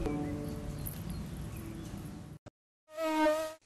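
Mosquitoes buzz in a loud, close, high-pitched whine for under a second near the end, after a stretch of dense, noisy background sound and a brief silence.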